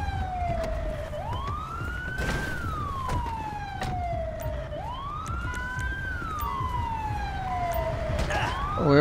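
A wailing ambulance siren in LSPDFR rises and falls in slow, sweeping cycles, loud and close, with some clattering noise and engine rumble underneath.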